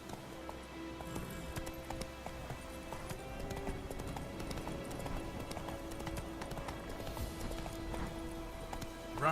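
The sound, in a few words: horse galloping in video game The Witcher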